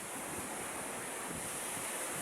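Sea waves wash steadily against a shore with some wind noise over the microphone, a continuous broadband surf roar at fairly close range and no talking.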